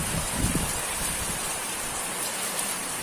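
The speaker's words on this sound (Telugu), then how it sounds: "ఈరోజు మా నర్సాపురపేటలో వర్షం చూడండి." Heavy afternoon rain pours down in Narsapurapeta, a dense, even hiss of drops striking surfaces nearby, loud and continuous with no voices.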